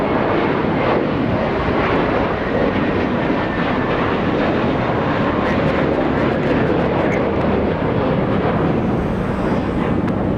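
An Asiana airliner at Los Angeles International Airport roars in a loud, continuous broadband rumble that holds steady for about ten seconds, with no voices over it.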